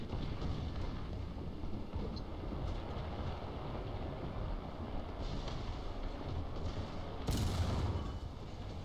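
Incoming artillery fire in the War Thunder tank game, a continuous heavy rumbling roar of battle with a sharper burst near the end, loud and sustained, no talking.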